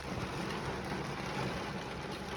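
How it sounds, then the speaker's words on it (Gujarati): Rain falls steadily over a village during a storm, a dense even hiss of drops heard from a parked car, with no voices. "જો ભાઈ અહીંયા ગામમાં વરસાદ ચાલુ થઈ ગયો છે"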